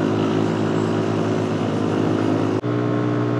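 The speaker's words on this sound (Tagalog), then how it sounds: "Lakas ng motor, tatlo sila." Motorcycles climb a hill road in Batangas, Philippines, a loud steady engine drone close by with a brief dip near the end, heard from a rider on an NMAX V2 scooter.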